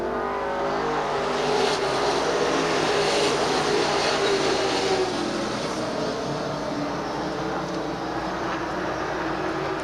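Late model sportsman stock cars roar past on the final lap at Beech Ridge Motor Speedway, a loud continuous engine drone from the pack, mixed and somewhat distant, holding steady throughout.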